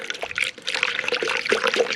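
Tap water trickling and pouring into the cooling system of a Subaru SF5 Forester during a coolant flush, a steady close liquid stream with small gurgles and fluctuations throughout.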